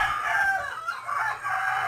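A five-month-old backyard rooster crows once from close by, a loud drawn-out call with a brief break partway through, heard alone.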